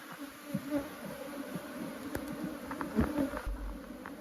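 Honeybees swarm and buzz around an open, crowded hive outdoors, a dense steady hum of many wings close by, with individual bees droning past now and then.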